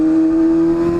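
A motorcycle engine holds a high, steady rev with a strong even tone, close and loud, with no talk.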